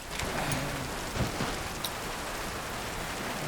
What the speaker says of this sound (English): I just love, like, this rainy atmosphere.